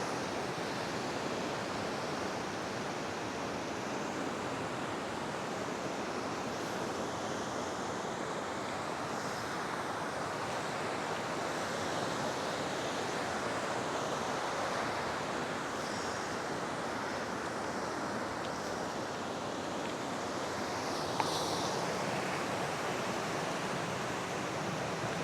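Ocean waves washing onto a beach in Indonesia, a steady broad roar of surf with wind buffeting the microphone, continuous and fairly loud for the whole stretch with no talking.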